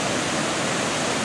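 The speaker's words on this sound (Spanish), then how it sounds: "Ahí está el río." A river in the forested Peruvian highlands near Oxapampa and Pozuzo rushes through thick vegetation, giving a steady, even roar of flowing water that holds constant with no voices.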